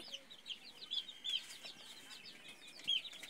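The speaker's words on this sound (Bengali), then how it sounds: "এখানে 8টা দেশি মুরগির বাচ্চা আছে" Several pure desi chicken chicks, five days old, peep in thin high chirps at close range. The calls come in short irregular bursts over a faint background, with no voices heard.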